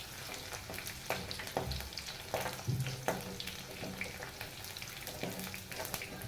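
Crushed garlic fries in a pan in a home kitchen, giving a soft, steady sizzle broken by scattered crackles and the light scrape of stirring.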